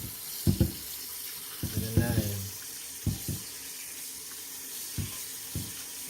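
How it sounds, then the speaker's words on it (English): Sea moss being rinsed under a running kitchen tap, with several short splashy bursts of water and handling noises spaced through the clip, fairly close and moderately loud, with no talking. "we finna rinse it off to get rid of most of the unwanted particles that's on it."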